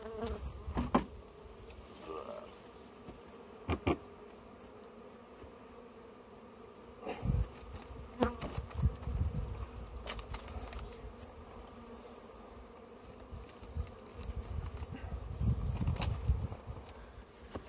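Honey bees buzz continuously around a hive being moved during a spring inspection, a steady drone with occasional bees passing close and bumps of handling.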